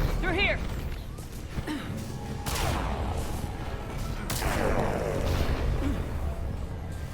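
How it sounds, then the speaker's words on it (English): Gunfire in the sci-fi shooter Mass Effect 3, with scattered shots and sharp impacts ringing over a steady roar of battle ambience, two louder bursts standing out midway. "There's definitely something shooting at me, but I can't see it."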